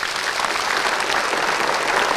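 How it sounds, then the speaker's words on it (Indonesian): Steady applause from a TV talk show studio audience, dense and continuous clapping at moderate volume with no pauses. "Kalau Aisyah, tepuk tangan buat mereka berdua."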